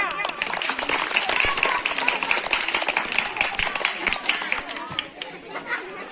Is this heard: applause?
yes